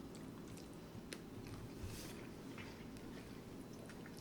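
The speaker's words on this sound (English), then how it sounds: "Let's go ahead and get another bite in there." Soft, close chewing and biting on a mouthful of vegan spaghetti, faint wet crunches and squishes under a quiet background hiss.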